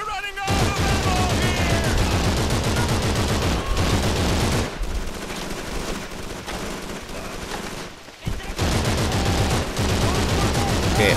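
Dense, continuous gunfire from Call of Duty 3, rapid automatic bursts and explosions layered into a loud, sustained barrage with a brief lull near the end before firing resumes, with voices shouting over the battle.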